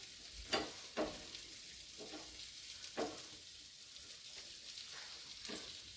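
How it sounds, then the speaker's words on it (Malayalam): Soybean roast with coconut pieces frying in a pan, stirred with a spoon: a soft, steady sizzle broken by a few sharp scraping knocks, fairly quiet and close, with no talking. "നമ്മൾ തേങ്ങാക്കൊത്തിട്ട് അതിനകത്തിട്ടൊന്ന് ഇളക്കിയെടുക്കാം."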